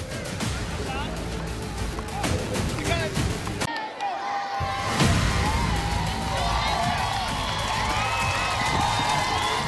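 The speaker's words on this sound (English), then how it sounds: "The crowd cheering for Amanda Booz down on the sideline." Spectators at a 2019 Friday night high school football game between Mobile Christian and UMS-Wright keep up a continuous roar of cheering and shouts, with voices mixed into the stadium noise.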